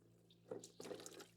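Cold water runs and splashes into a teacup in a home kitchen during fudge making, in two short bursts of pouring with a faint steady hum underneath.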